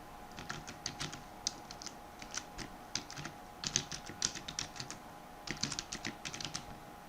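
An email address typed on a computer keyboard during a software setup, a close series of quick, irregular key clicks in bursts with short pauses, no talking.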